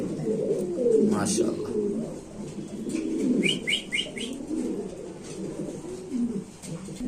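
Pigeons coo softly nearby while people talk over them, with a brief run of quick chirps partway through.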